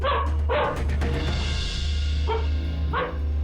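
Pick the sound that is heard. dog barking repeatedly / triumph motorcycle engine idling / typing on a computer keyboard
dog barking repeatedly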